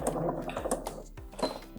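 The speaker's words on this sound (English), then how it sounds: "Pin it and then sew it with a straight stitch." A sewing machine runs a straight stitch along the tier seam of a maxi skirt, a short close burst of motor whirring with a quick mechanical chatter.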